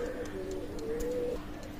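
A Pakistani-bloodline pigeon coos softly and close by, a low drawn-out warbling call against quiet background noise.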